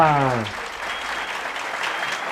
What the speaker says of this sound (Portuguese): Bate palma, plateia!